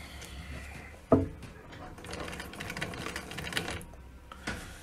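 Singer 111W industrial sewing machine stitching in reverse for a backstitch, a close mechanical chatter with a sharp knock near the start and steady rattling stitches throughout.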